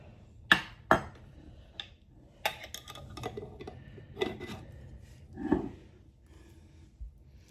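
Ham salad stirred with mayonnaise in a bowl, a spoon scraping and clinking against the sides in scattered, uneven strokes, close and fairly quiet with no talking.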